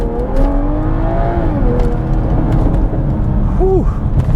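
A 2022 Toyota Supra with a 3.0L engine in sport mode revs loudly nearby, its engine note rising and falling over a steady roar, with a few sharp exhaust crackles and pops.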